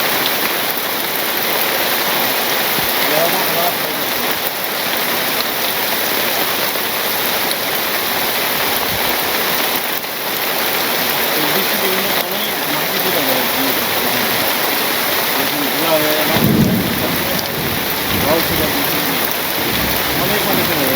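Heavy rain pours steadily over a Bangladeshi village, a loud and continuous close wash of falling water that lasts the whole stretch.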